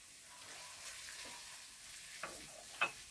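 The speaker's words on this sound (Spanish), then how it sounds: "También la voy a rehogar un poquito." Fried tomato sauce sautés in a pan as the base of a sausage stew in beer sauce, giving a soft, quiet sizzle with a few brief scraping stirs near the end.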